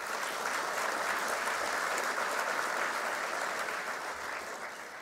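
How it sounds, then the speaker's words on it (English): Sustained audience applause fills a hall at the American Hockey League Hall of Fame induction and awards ceremony during All-Star festivities, a dense, steady wash of many hands clapping at even loudness throughout. "So how about a round of applause for them?"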